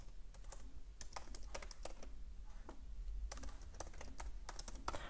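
Steady typing on a computer keyboard while writing a message, a fast run of clicking keystrokes in two bursts with a brief pause between, close and fairly quiet over a low hum.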